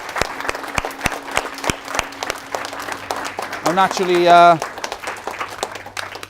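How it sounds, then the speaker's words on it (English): Applause from an audience at a soccer academy event, with claps rising and falling over about six seconds while someone speaks over it, and a brief loud vocal flourish near the end. "I want to give them our appreciation, a big round of applause"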